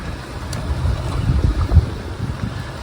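A restored 1948 Johnson TD20 five-horsepower outboard motor runs on a choppy lake, a low steady engine drone mixed with wind buffeting the microphone and water slapping, no voices.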